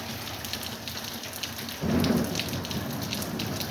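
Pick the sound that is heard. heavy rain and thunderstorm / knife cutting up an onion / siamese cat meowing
heavy rain and thunderstorm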